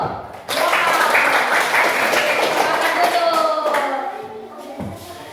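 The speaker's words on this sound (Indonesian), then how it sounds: "Kalau begitu kita tepuk tangan dulu" Classmates in a classroom clap together after a group presentation, a burst of applause that starts abruptly and runs under scattered children's voices and chatter before fading out.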